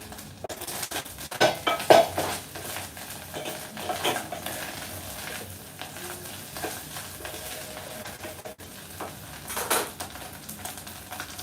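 Dinner being cooked in a home kitchen: steady sizzling and frying with stirring, occasional clinks of pots, pans and utensils, moderately close, with no talking.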